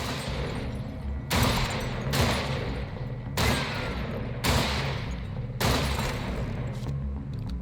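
Pistol gunfire in the video game Weird West, five evenly spaced loud shots about a second apart, each a sharp crack with a booming tail over a steady low ambient drone.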